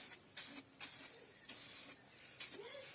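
Weld-through primer is sprayed from an aerosol can during car panel prep, giving four or five close, loud hissing bursts of about half a second each, separated by short pauses, with no talking.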